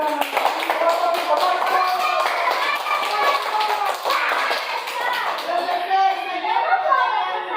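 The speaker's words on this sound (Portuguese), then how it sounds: "Quem gostou pode bater palmas." A crowd of people, many sounding like children, claps steadily and densely throughout, a continuous patter of hands with some voices mixed in.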